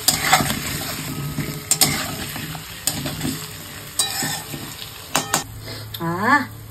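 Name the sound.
onions and potatoes frying in a pan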